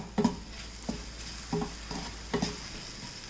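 Butter and sugar with soft fruit being stirred in a pan for a layered pudding, a quiet background sizzle broken by several regular scraping strokes of the spoon, close and with no talking.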